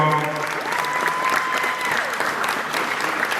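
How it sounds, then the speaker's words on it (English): Crowd clapping at a college signing day gathering, a brief, steady burst of applause with a few cheers, fairly close and continuous throughout. "let's give him a hand of applause"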